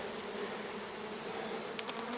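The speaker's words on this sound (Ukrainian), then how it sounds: "Так, бджоли трохи роздратовані, але нічого." Steady, dense buzzing of many slightly agitated bees at an opened hive, continuous and fairly close, with a few brief louder passes near the end.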